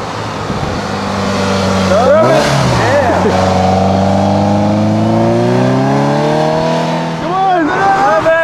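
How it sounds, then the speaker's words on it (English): A car engine at the Monterey car weekend revs hard in repeated rising and falling blips, then holds a high steady drone before revving again. It is loud and close, with voices of onlookers. "Rev it! Rev it up!"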